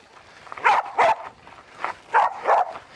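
On a farm, a dog lets out a series of short, sharp yips and barks mixed with whimpers, coming in pairs with brief pauses between.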